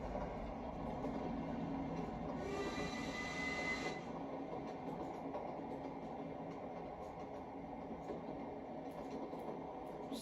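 In Train Sim World 5, a steam train slows with its regulator closed, and its rolling rail noise and wheel squeal carry on steadily. A brief bright hiss swells and cuts off partway through, and nobody speaks.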